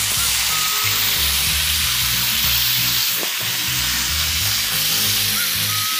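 Pork meat hits a pan turned up to maximum heat and sizzles loudly and steadily, with some stirring and scraping, close and continuous without talk.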